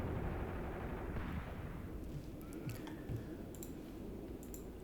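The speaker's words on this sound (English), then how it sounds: "This artillery's about to land." Artillery shells landing in the WWII tactics video game Graviteam Tactics, with faint, distant thumps and crackling impacts under a steady low rumble of battlefield ambience.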